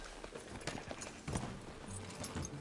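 Horse hooves clip-clopping in Red Dead Redemption 2, a faint, uneven run of hoof thuds at walking pace under low game ambience and a quiet hum.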